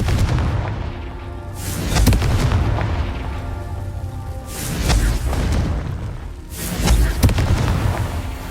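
Confringo blasting spells explode in the video game Hogwarts Legacy, three loud booming blasts a few seconds apart, each rumbling and fading under a continuous game backdrop.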